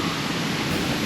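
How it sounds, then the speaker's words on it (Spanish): Waterfall in Australia near a huge rock, a dense, steady roar of falling water filling the whole moment, loud and close. "Una cascada como la primera que vimos."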